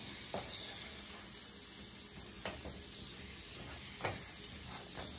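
Large asparagus spears sautéing in a pan, a steady soft sizzle and hiss throughout with a few brief clinks or stirs at intervals, close and moderately quiet, no talking.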